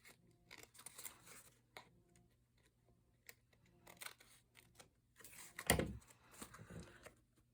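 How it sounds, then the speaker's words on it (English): Scissors trimming the paper flap of a flip folio card craft, quiet close snips and paper rustles in short bursts, with a louder crisp cut near the end. "I'm just going to trim the flap this time."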